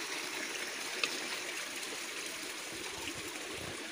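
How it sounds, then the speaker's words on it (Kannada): Water gushes steadily from a pipe into a fish tank, a constant rushing flow that stays fairly quiet and even throughout, with no voices. "ನೀರು ಬರ್ತಾ ಉಂಟು, ಹೆಂಗ್ ಬರ್ತಾ ಉಂಟು ನೋಡಿ"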